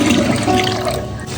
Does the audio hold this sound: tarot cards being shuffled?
no